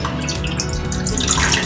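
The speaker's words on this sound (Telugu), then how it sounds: "అలాగే మనం ముందుగా నానబెట్టుకున్న చింతపండు" Soaked tamarind water is poured into an ash gourd curry in a pan, a continuous, splashy liquid pour heard close up with no talking.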